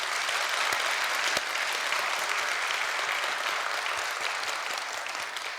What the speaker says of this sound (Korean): 박수로 화답해 주시면 고맙겠습니다